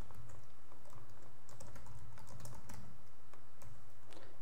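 Rapid, irregular clicking of a computer keyboard as text is typed, close and clear, a continuous patter of keystrokes with no voices over it.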